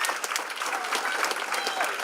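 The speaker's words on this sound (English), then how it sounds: "Let's give her a round of applause." Audience applause at an annual gala, a dense steady wash of many hands clapping throughout, fairly close and even in loudness.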